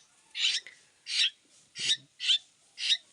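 Two pet birds squabbling over mango and banana, giving five harsh, raspy squawks in an even rhythm, close and fairly loud with short silences between them.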